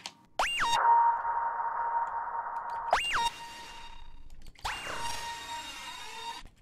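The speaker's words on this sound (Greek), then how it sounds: "έχω προσθέσει άλλο ένα preset του Serum για να προσθέσω απλά 2 νότες στο τελείωμα του μέτρου" Two sweeping synth notes from a Serum preset, each opening with a sharp pitch-dipping zap and then holding a buzzy tone; the hits are spaced a couple of seconds apart and sound close and alone.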